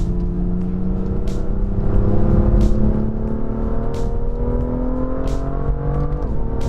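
A BMW M2 with a DCT gearbox accelerates hard on a race track, its loud engine note climbing steadily through the revs with several quick, crisp upshifts breaking the rising tone.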